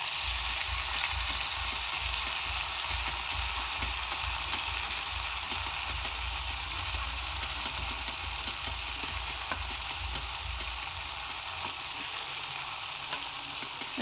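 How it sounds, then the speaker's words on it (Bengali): Food frying in a pan with turmeric sizzles loudly and steadily up close while it is stirred, with scraping touches scattered through the continuous hiss. "এরপর এটাকে একটু নাড়তে হবে।"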